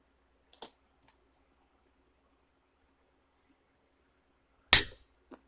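A CPU heat spreader snapping loose during a delid, with an Allen wrench turned on the delid tool: a few small faint clicks, then one sharp, close crack after a long silence and a light tap at the end.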